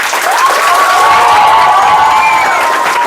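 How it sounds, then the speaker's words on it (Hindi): Students at a coaching batch launch clap together in a dense, steady burst of applause with some cheering mixed in, loud and continuous throughout. "बजाओ ताली।"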